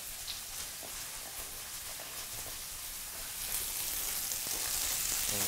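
Cabbage, onion and rice stir-fry in a pan with a steady, close sizzle and hiss and faint scraping, growing a little louder toward the end, with no talk.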